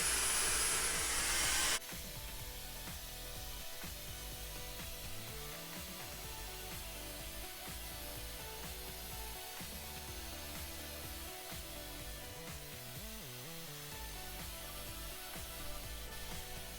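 A Dyson hair dryer fitted with its smoothing nozzle runs in a steady, even whoosh of airflow lasting many seconds, after a brief louder burst at the start, with no talking over it.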